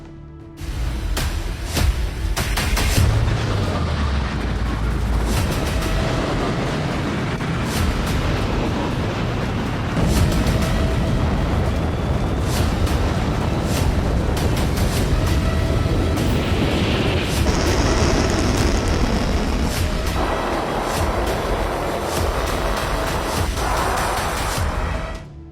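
A missile launch and explosion give a loud, sustained roar and rumble throughout, heavy low-end blasts with crackling bursts layered over a constant dense wash of noise, and no voices.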